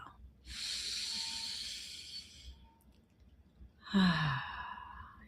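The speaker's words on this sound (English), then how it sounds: "Inhale and exhale." Two deep breaths during a guided breathing exercise: a long, airy breath lasting about two seconds, a pause, then a sighing exhale with a slight voiced tone, close and fairly quiet.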